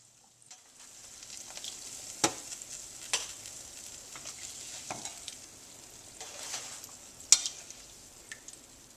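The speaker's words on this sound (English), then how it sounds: "Give them a quick flip and fry the other side." Donut holes frying in hot oil, giving a steady soft sizzle with scattered sharper pops and crackles, close by with no talking.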